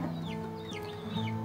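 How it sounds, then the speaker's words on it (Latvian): Chickens clucking close by at a roadside rest stop in Georgia, a steady stream of overlapping clucks and short calls against ambient noise. "Blakus vistiņas."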